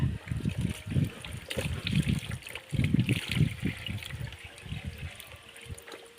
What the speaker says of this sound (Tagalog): Lalagyan naman natin uli ng tubig.